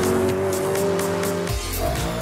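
A BMW M3 GTS drifts tail-out under throttle, its engine note sustained and loud while tyres squeal through the slide, the revs dipping briefly before climbing again.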